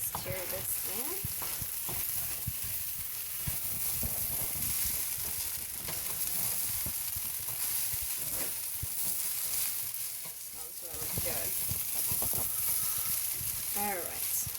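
Spices are stirred into pilau rice frying in a pot, with a steady loud sizzle throughout and repeated scraping stirs up close.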